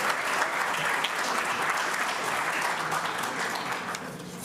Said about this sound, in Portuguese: Eu peço, por favor, uma salva de palmas a essas marcas vencedoras.